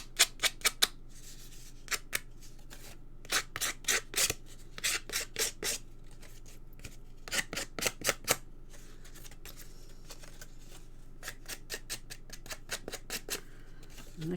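Sharp, crisp snips of a simple pair of scissors cutting through cardstock, coming in quick bursts of several clicks with short pauses between them, close and fairly loud with no talking.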